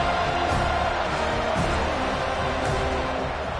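A large football stadium crowd roaring steadily during a college scrimmage, a continuous loud wash of cheering and whoops with a few sharper swells, and no voice standing out.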